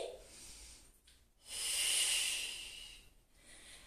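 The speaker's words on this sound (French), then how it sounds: "Une dernière respiration ici" One slow, deep breath during a yoga exercise, heard close to the microphone as a soft airy hiss that swells and then fades, in an otherwise quiet room.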